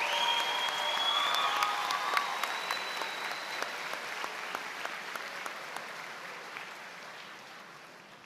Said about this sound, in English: If we could all take or give our graduates a round of applause